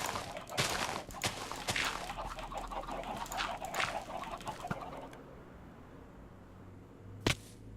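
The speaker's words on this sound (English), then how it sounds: "Got the little chickens in their little pen there." Minecraft chickens in a pen give a run of soft clucks and flutters for several seconds, then quiet, with one last short cluck near the end; no talk.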